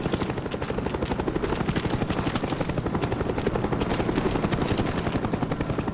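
A video game helicopter flies overhead during a multiplayer shooter match, its rotor thumping in a loud, continuous rhythmic beat throughout with no talk.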